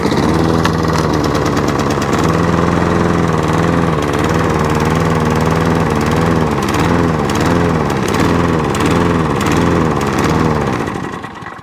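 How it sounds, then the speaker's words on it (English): A worn, high-hour Mountfield 414 lawn mower engine runs loud and close, its revs surging and sagging in a wavering, struggling rhythm before fading slightly at the end. "the engine revs just drop, and the engine's really struggling"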